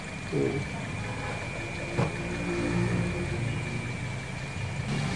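A Toyota Altis engine running with a vibration problem, held at a steady idle. It gives a continuous even hum with a faint single knock partway through and no clear speech.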